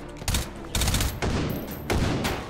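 Full-auto gunfire in the VR shooter Hot Dogs, Horseshoes & Hand Grenades comes in four loud, close bursts of rapid shots, each separated by a brief pause.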